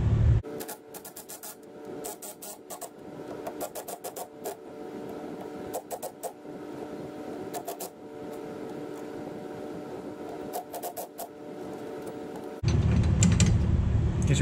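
Wrench loosening leaf spring U-bolt nuts on the passenger side of a truck axle during a 6-inch lift kit install, heard as repeated bursts of ratcheting clicks separated by short pauses, with a louder clunk near the end.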